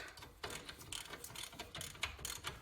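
Ratcheting wrench tightening the nut on a strut of a 1996 Buick with a 3800 engine, a quick run of close metallic clicks repeating steadily throughout.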